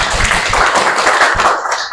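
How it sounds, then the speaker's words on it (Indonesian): Classroom audience clapping during an Islamic lesson on cleanliness in an Indonesian school, a dense mix of hand claps and taps that fills the whole moment without a break and with no voices over it. "Kasih tepuk tangan."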